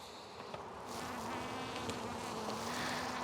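Honeybees buzz steadily in an opened overwintered nucleus hive colony, a close, continuous drone that swells slightly louder after the first second.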